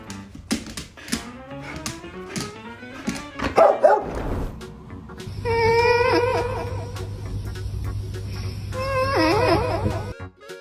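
A dog barks in short, sharp bursts early on, followed by whiny, yelping vocal sounds and tapping over a steady low hum.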